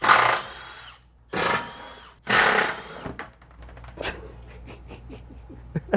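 Power tool, likely an impact wrench, backing out 10mm bolts under a 2014-2018 Chevrolet Silverado during a lift install: three loud whirring bursts close by, followed by lighter clicks and rattles as the bolts come free.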